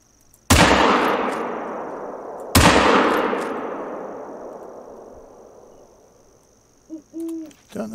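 Two loud rifle shots from a hunting rifle in theHunter: Call of the Wild, the first near the start and the second a couple of seconds later, each with a long echoing decay across a quiet night landscape, followed by faint short calls.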